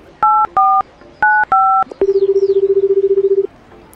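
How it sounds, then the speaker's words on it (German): In the Toca Boca video game, a phone call starts with four quick dialing tones in two pairs. A steady, pulsing ringback tone follows and lasts about one and a half seconds. "Ich rufe mal David an."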